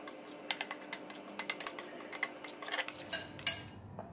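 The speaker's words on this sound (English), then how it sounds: "So, we'll mix all this together." A spoon mixes garam masala, curry powder and turmeric powder together in a bowl for crab curry, giving a run of light, irregular clinks and taps against the dish, fairly quiet and close.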